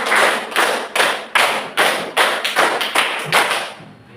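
A class plays a rhythmic hand-clapping game, about ten sharp, loud group claps in quick succession, some in pairs, with no one speaking over them.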